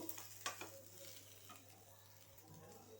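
Grated coconut frying in a pan for capsicum curd sambar, a steady low sizzle with occasional stirring scrapes, fairly quiet throughout with no talking.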